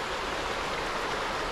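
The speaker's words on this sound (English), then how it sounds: "Check that river out." River in Alaska flowing steadily, a continuous broadband rushing wash with no breaks and no voices, heard at moderate distance.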